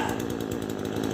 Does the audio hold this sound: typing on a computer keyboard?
no